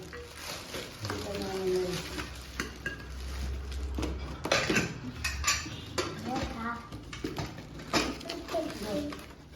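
Metal pressure cookers and pots clank and clatter as they are handled in a market shop, with intermittent metallic knocks under people talking nearby.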